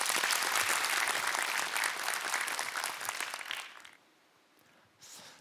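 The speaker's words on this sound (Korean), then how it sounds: "안상훈 교수님께 감사의 박수 올려드리겠습니다" A studio audience applauds a professor with dense, full clapping for about four seconds. It then fades to near silence, and a brief burst of clapping follows near the end.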